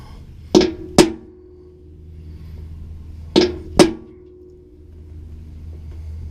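Two pairs of sharp metallic hammer strikes on a center punch, making a divot in metal before drilling for a Frantz bypass oil filter install on a 2005 Ford Expedition; close and loud, each pair about half a second apart, with quiet between.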